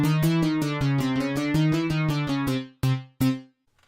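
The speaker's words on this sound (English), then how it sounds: "To help people remember our product, we had to make a jingle." Short synth-like jingle for the Be Wild product, a bright bouncy run of rapid repeated plucked notes ending in two detached stabs, played cleanly with no voices.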